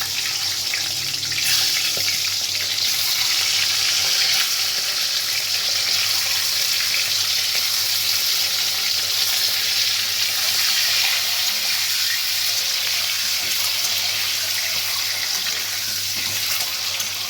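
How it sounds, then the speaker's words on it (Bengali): Eggs fry in hot oil in a pan for a green egg curry, giving a loud, continuous close-up sizzle that holds steady throughout with no speech. "ডিমটা এভাবে ভেজে নিচ্ছি"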